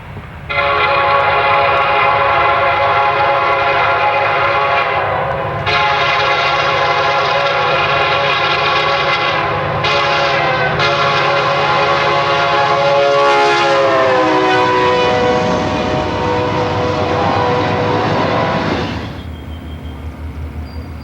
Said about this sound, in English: A brand new SD75M leads this westbound.